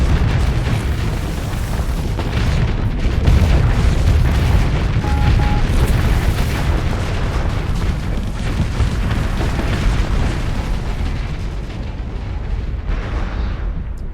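Loud, continuous barrage of booming explosions and bursts from a video game zapper weapon firing at missiles, dense rumbling blasts layered without pause throughout.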